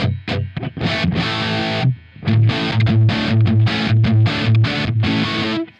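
A Dumble-style guitar amp with its reverb switched off, played with a driven, slightly distorted tone: a short chordal phrase, a brief pause, then a run of rhythmic repeated notes, loud and close with no voices.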